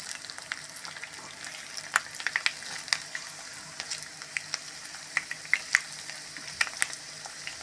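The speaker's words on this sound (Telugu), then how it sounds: "ఆవాలు వేసుకుని కొంచెం వేగమంట" Fenugreek seeds, garlic, dried chilies and mustard seeds fry in hot oil in a pan for a grated raw mango chutney, giving a soft steady sizzle dotted with sharp, irregular pops and crackles close by.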